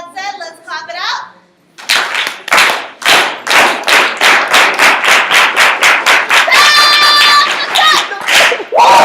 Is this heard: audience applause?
yes